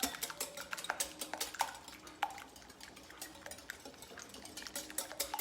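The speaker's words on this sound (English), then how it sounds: "you're gonna whisk that together" Eggs whisked with salt and pepper in a bowl, giving a quick, steady run of light clinking and tapping strokes, close and fairly quiet, with no voices.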